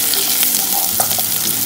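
Onions with ginger garlic paste frying in a pan, a steady close sizzle with faint crackles and a few soft stirring clicks, no voices.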